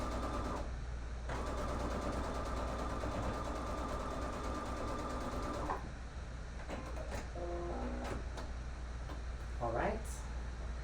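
A sewing machine runs a steady line of top stitching on a 3D face mask, humming evenly for several seconds before stopping, followed by scattered clicks and handling noises.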